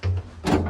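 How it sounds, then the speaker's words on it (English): Door of a Devega traction elevator slamming in a building in Madrid, Spain: a short, close thud with a rumbling low body, following a softer preceding bump. "That door slams."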